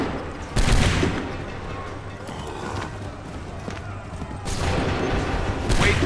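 Musket volleys crack out in Assassin's Creed 3 at a Lexington and Concord battle, loud broadband bursts near the start and again toward the end over a continuous battlefield din, with people talking amid the gunfire.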